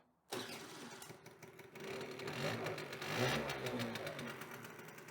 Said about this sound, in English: We've got a scooter that's running.